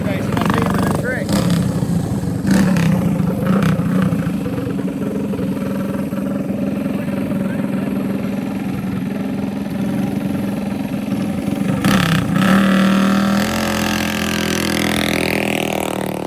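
Several motorcycle engines idle and rev as a group rolls in at a street-racing spot, a steady loud mechanical rumble running throughout with a rising rev burst near the end, under ongoing talk.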